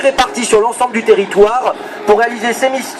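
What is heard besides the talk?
No everyday noise stands out behind the speech.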